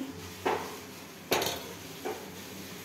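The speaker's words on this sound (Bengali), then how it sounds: "এখন আমি নামিয়ে নিচ্ছি, ঢাকনাটা খুলে নিচ্ছি" A pan lid is handled after an egg dish finishes steaming, giving three faint, separate metallic clanks and knocks spaced about a second apart in a quiet kitchen.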